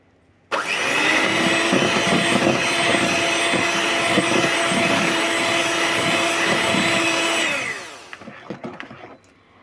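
An electric hand mixer beats sugar for a wheat flour brownie batter, a loud continuous whirring drone lasting about seven seconds before winding down, with a few soft knocks afterwards.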